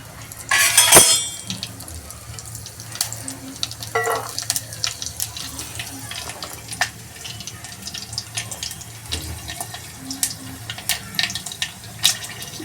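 Tap water running while a bottle gourd is washed in a kitchen: a steady trickle with intermittent splashes and clinks, and a louder burst of water near the start.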